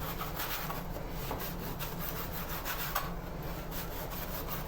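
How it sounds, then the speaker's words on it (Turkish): A knife saws through pide bread in a home kitchen, giving a steady, close scraping and rasping with faint rhythmic strokes throughout and no talking. "Hemen şimdi pidelerimi kesiyorum."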